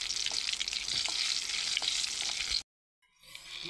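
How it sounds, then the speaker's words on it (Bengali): Dry red chillies and black cumin seeds fry in hot oil with a dense, close sizzle and scattered stirring scrapes, then the sound cuts out abruptly and fades back in faintly. "আমি শুকনো মরিচ ভাজছি"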